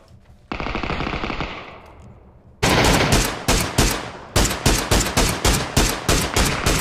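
Video game gunfire: a long continuous burst of automatic fire, then a run of short, sharp volleys that repeat in quick succession, all loud and close, after a softer hissing stretch.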